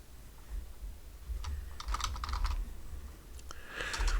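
Keys clatter on a computer keyboard while a Java file is created, coming in short bursts of fast typing with brief pauses, close and fairly quiet over a low steady hum.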